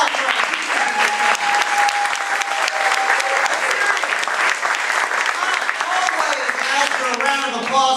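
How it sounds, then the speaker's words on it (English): Crowd at the Sebastopol Grange giving a round of applause for teachers, steady full clapping that continues strongly for the whole stretch, with some voices and cheering underneath. "Let's get a round of applause for our teachers."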